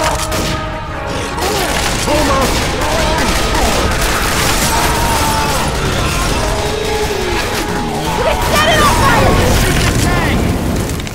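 Sustained heavy gunfire from the Dead Center campaign of Left 4 Dead, with dense overlapping shots and booms while a tank is fought, loud and continuous throughout, with excited voices shouting over the shooting.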